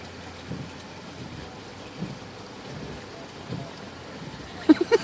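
Rain falls outside a car, a soft, steady patter heard from inside with a few louder thumps near the end.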